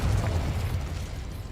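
Confringo fire spell cast in Hogwarts Legacy, a steady rumbling magical blast with heavy low-end boom that holds loud for over a second and slowly fades.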